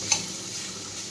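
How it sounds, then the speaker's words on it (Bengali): Sliced snake gourd fries in a pan, giving a soft, steady sizzle with one brief tick of the utensil near the start and no talking. "আর এদিকে দেখো চিচিঙ্গা ভাজা বসিয়েছি"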